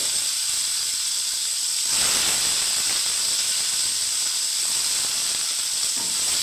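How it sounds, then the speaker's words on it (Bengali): Bitter gourd frying in hot mustard oil, a steady bright hiss and sizzle that swells louder around the second mark and then holds evenly close up, with no talking. "তেল গরম হয়ে গেছে, আমি ভেজে নিচ্ছি করলাটাকে।"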